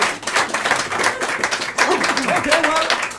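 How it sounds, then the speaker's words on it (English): An audience in a traditional Irish music pub in Graignamanagh, County Kilkenny, claps steadily and loudly throughout, a dense wash of applause with voices talking and calling out over it. "Give him a round of applause"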